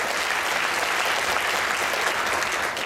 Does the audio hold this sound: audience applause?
yes